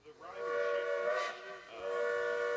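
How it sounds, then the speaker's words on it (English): The steam locomotive of the Sumpter Valley Railroad in Oregon sounds its whistle in two loud, chord-like blasts, the first long and the second beginning after a brief dip, with a hiss of steam beneath. "When the whistle blows in Sumter, Oregon, one thing's for sure."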